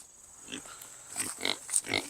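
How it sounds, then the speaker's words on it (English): Pigs on a farm grunt in a quick cluster of soft, close snorts that grow louder toward the end, with no talking over them. "What's up, little pigs?"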